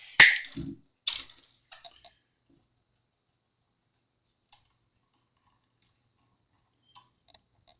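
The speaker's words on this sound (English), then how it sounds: "Just to the next peg, and then snip it off." Cutters snip the excess end of a Telecaster guitar string during a restring, giving a few sharp close clicks and snaps at the start, then scattered faint ticks over near silence.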